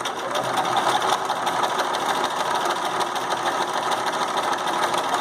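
A sewing machine stitches a fabric casing along tape with matching thread, giving a steady, close, continuous mechanical whir with a rapid needle rattle throughout and no talking.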